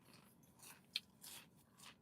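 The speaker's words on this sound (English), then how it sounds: "I'm chewing too loud." Loud, close chewing with sharp crunching bites, one especially crisp crunch near the middle and several softer mouth sounds around it, with no talking.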